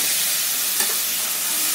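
Ginger spice paste fries in hot oil for a traditional vegetarian thor (banana stem) dish, a steady close sizzle and hiss with a brief stirring scrape midway.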